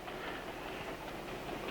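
A train runs along the rails with a steady, rumbling roar and faint clatter, continuous and moderately loud, with no voices over it.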